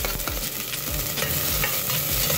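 Onion being stirred and sautéed in a pan for chicken tinola, a steady close sizzle of frying with repeated scraping strokes of the stirring utensil, and no talking.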